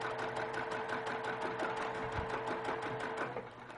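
Sewing machine stitching across quilt-block fabric, a rapid, even mechanical chatter from the needle and motor, close and steady, easing slightly near the end with no voices over it.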